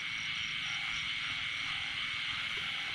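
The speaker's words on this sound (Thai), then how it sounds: "เสียงกบ" Dense chorus of frogs croaking continuously by rice fields at night after rain, in a steady, pulsing rhythm, with a high insect-like drone above, fairly distant and even in loudness.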